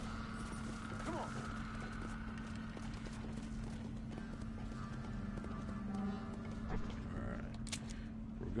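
Rhythmic hoofbeats of a black horse in Red Dead Redemption: Undead Nightmare clop steadily over a constant low hum, with a horse whinnying briefly and faint game sounds in the background.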